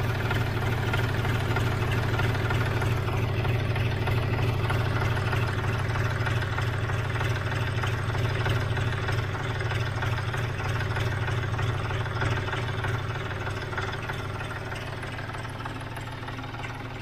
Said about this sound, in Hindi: अभी मैं ट्रैक्टर को चालू करने वाला हूँ